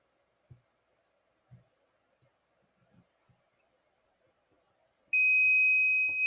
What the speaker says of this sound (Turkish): böyle bir şekilde buzzer'ımız ses çıkarıyor.